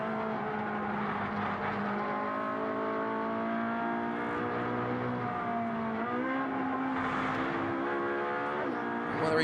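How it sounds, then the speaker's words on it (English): A Ferrari 458 race car engine screams through the gears on the Mugello circuit, heard on board as a continuous high-revving wail with sharp shifts, fairly quiet overall. "Listen to him work that 458."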